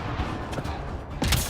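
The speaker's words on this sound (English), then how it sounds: "They shot him!" Gunfire in Mass Effect: Andromeda, with a few sharp shots cracking over a dense, busy layer of combat noise, the last burst louder and closer.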